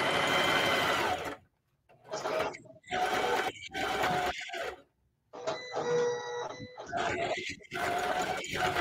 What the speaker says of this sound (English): the sewing is going